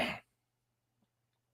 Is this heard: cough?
yes